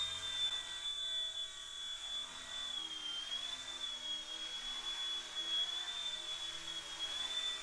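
An RC ERA C129 V2 remote-control helicopter hovers steadily, its small motor giving a constant high-pitched whine with a faint rotor hum, level and unbroken throughout.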